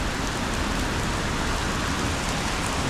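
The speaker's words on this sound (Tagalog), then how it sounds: "Lakas ng ulan pagkuha natin." Heavy rain pours steadily onto surfaces outdoors, a dense, loud, unbroken hiss and patter that fills the whole stretch with no voices over it.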